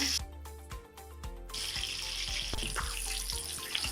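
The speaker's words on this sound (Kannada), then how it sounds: "ನಾನಿದನ್ನು ಓವರ್ ಫ್ಲೇಮಲ್ಲೇ ಫ್ರೈ ಮಾಡ್ಕೊಳ್ತೀನಿ." Chicken, already cooked, frying over an open flame in a pan, a steady close sizzle that swells after a few quick clatters at the start, with scattered small pops and taps throughout.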